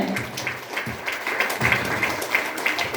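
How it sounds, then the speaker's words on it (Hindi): A crowd at an event gives applause, a moderately loud, continuous patter of clapping with some stronger individual hits and a faint murmur beneath. "उनके लिए जोरदार ताली होनी चाहिए।"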